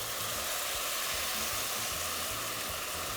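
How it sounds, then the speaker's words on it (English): Steady broadband sizzling hiss of rice frying in hot butter and oil, loud and close, continuous throughout with a faint low hum beneath. "That's what you want to hear when you add the rice, that nice sizzle"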